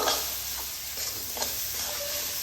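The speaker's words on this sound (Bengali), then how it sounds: "আমি এক মিনিট মতো সর্ষেটা এই মশলার সঙ্গে মিশিয়ে নেব" Mustard paste mixed into spices frying in a pan, a steady loud sizzle with scraping stirring strokes running underneath throughout.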